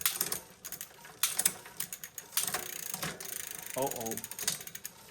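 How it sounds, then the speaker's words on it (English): A store-bought bicycle with an overlong chain and a rubbing disc rotor skips gears, producing close, loud bursts of rattling mechanical clicks and ratcheting clunks in an irregular rhythm. "Skipping gears."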